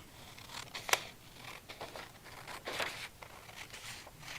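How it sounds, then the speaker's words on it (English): Scissors cutting out paper screens for a craft prototype, a few quiet snips and rustles of paper, close and with no talk. "I'll grab a pair of scissors and cut out every screen"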